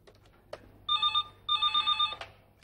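A telephone rings in a comedy sketch, two clear bursts of repeated electronic bell trills, loud and close, with a short pause between them and no talk over the ringing.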